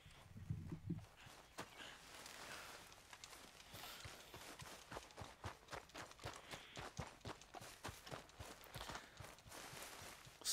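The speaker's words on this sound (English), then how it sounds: "Horses bad." Horse hooves clip-clop in a steady walking rhythm, close and fairly loud, with a busy game soundscape around them in Red Dead Redemption 2.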